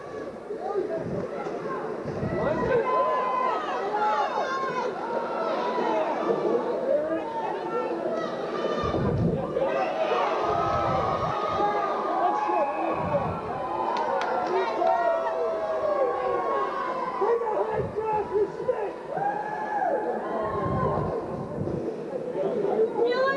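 The crowd at a 1999 Wethersfield vs Manchester high school boys' ice hockey game murmurs and calls out in rising bursts around an expected penalty, with a commentator talking over it.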